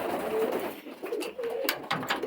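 Pigeons coo softly in low, throaty bursts, several calls in a loose rhythm, with light rustling and background noise around them.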